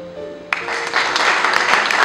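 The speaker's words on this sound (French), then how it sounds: "Est-ce qu'on peut l'applaudir?" Audience applause at a book launch bursts in abruptly after a sustained tone and continues as a dense, loud wash of clapping.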